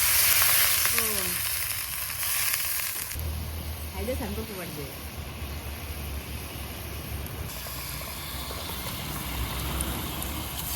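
Water poured onto fried masala in a hot pan, a loud hissing burst at first that settles into a steady sizzle and bubbling, with a voice speaking briefly over it.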